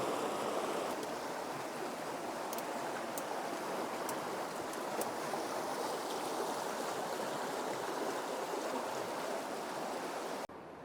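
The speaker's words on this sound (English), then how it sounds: "It's stuck between a falling bank and a fast-moving river." A fast-moving river flows beside a collapsing riverbank, making a steady, continuous rushing wash of water with a few faint ticks over it, unbroken for about ten seconds before dropping slightly at the end.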